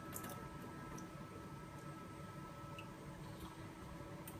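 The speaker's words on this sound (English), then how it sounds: "just need to run under a very light stream of water the slide" A microscope slide is rinsed under a very light stream of water, giving a steady, soft, close hiss of flowing water with faint drips that runs unbroken from start to finish.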